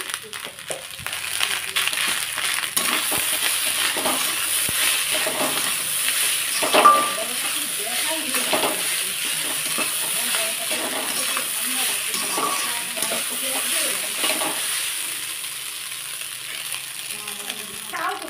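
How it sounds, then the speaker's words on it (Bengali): Leftover rice frying in a pan with turmeric, stirred by a utensil: continuous close sizzle with repeated scraping and clinking strokes against the pan throughout. "এইভাবে ভাত ভাজবে ছোটো থেকে বড় সবাই কিন্তু খেতে খেয়েই ভালো পাবে"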